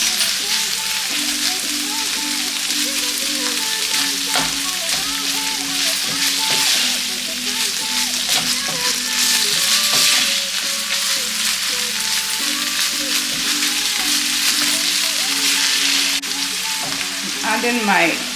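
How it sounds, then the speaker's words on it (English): Canned tuna sizzling loudly in a hot pan for a summer squash and zucchini dish, a steady dense frying hiss with scraping from stirring throughout. "I'm adding my tuna. Also stir it."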